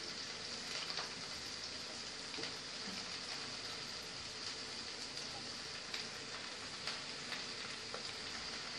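Broad beans (avaraikkai) fry in a pan for a South Indian lunch, giving a continuous, even sizzling hiss with scattered small pops throughout.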